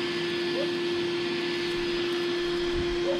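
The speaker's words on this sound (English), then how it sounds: "You're wondering why I vacuum so much, is it makes a huge mess drilling this out" A vacuum cleaner sucks up metal shavings from drilling a hole while LED running lights are added to a horse trailer, giving a steady, loud, continuous whooshing drone with a constant hum.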